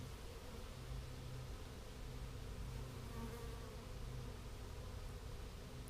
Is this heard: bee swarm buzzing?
yes